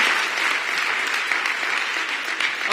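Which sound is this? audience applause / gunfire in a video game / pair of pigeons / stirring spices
audience applause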